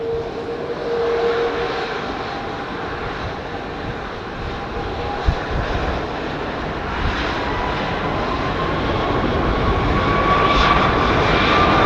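A Virgin Airbus A330ceo jet at London Heathrow Airport roars steadily with a broad engine rumble and hiss that slowly swells toward the end, heard from a distance without talking.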